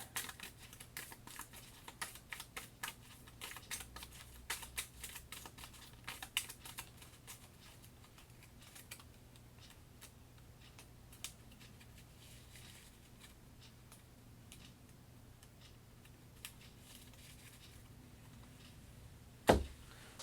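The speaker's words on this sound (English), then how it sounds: "I'm going to go ahead and shuffle these up." Cards from a Kingdom Death Monster board game deck get shuffled in quick, rapid riffles and taps, faint and close, thinning out midway, with a sharp knock near the end.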